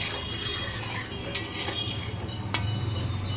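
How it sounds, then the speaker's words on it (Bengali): Aloo posto being stirred in a pot with a little water before covering; quiet scraping and stirring with two sharp metallic clinks of a utensil against the pot, close and soft. "এটা একটু নেড়ে আমি কিছুক্ষণের জন্য ঢেকে দেব"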